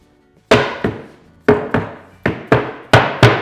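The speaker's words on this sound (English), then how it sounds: "Tap everything in place." A cabinet spreader strip and its brackets are tapped into place while a standard RTA base cabinet is assembled: seven sharp wooden knocks in uneven pairs, loud and close, each ringing briefly, with no talking.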